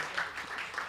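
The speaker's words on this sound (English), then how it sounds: "A round of applause." Faint, brief patter of applause from a seminar audience, soft and distant, lasting about a second.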